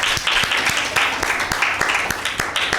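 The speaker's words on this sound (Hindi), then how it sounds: "वेरी गुड, सैरिश के लिए ज़ोरदार ताली।" A group gives hearty applause at a children's Mother's Day church program, a dense, continuous patter of many hands clapping with sharp individual claps standing out, close and lively throughout.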